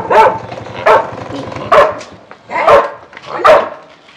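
A dog barks five times in a steady, evenly spaced series of loud, close woofs at roughly one-second intervals, heard at feeding time with no talk over it.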